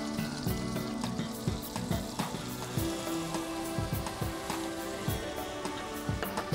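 Butter and a sprinkle of flour sizzle in a frying pan, a steady close crackling hiss with light clatter and scraping, no voices.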